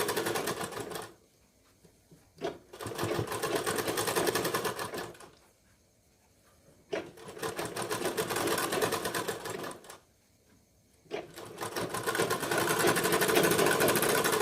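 A sewing machine stitches a blouse sleeve, running loud and close in three long bursts separated by brief pauses, each start and stop clearly audible.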